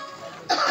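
A single short cough caused by a tickle in the throat bursts out abruptly after a faint, breathy lead-in, close and fairly loud, with no talk around it.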